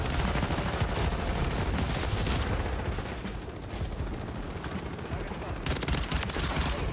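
Rapid Rival 9 burst rifle fire in Call of Duty MW3 multiplayer, a loud, continuous crackle of shots and impacts filling the whole stretch, with a player's voice talking over it.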